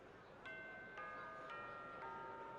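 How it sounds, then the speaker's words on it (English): A bell in the video game Bravely Second: End Layer rings four evenly spaced chimes about half a second apart, faint and clear over soft background music, with no one talking. "Oh, there's the bell."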